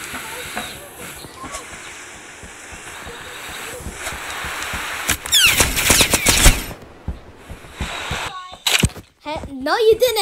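Gunfire in a video game: a dense cluster of rapid shots in the middle and a few sharp later shots over steady hiss, with people talking throughout.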